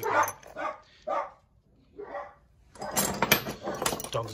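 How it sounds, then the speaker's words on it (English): Several loud barks from dogs in quick bursts, followed by a frantic flurry of overlapping barking close by. "Dogs are going mad because someone's walked past."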